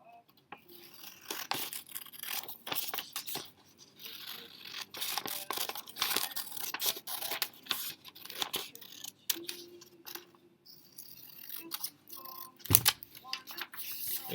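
Scissors snip through paper in quick, irregular bursts, with crisp rustling and crinkling between cuts and a sharp tap near the end.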